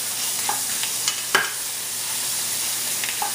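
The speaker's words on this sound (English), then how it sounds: "as soon as our mustard seeds start popping, we're going to go ahead, ooh, and it's popping everywhere" Mustard seeds popping in hot oil for a chutney served with dhokla/khaman, under a steady soft sizzle with a few scattered sharp pops and faint stirring, and no talk.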